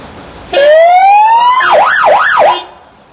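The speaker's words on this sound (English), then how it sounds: "The sirens are 2-tone, and you'll notice the difference." A loud two-tone emergency vehicle siren, activated on the horn: a rising wail sweeps upward, then quick alternating yelps rise and fall three times before cutting off.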